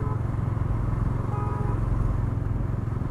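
A 2020 Bajaj Dominar 400 BS6 motorcycle, brand new, is ridden gently at low throttle, its engine giving a steady low, pulsing thrum that stays even and close for the whole stretch.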